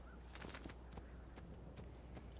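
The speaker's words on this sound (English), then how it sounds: "We could ride a horse if we want." Horse hooves clip-clop steadily in Assassin's Creed II, a regular rhythm of distinct, moderately close strikes with no talking over them.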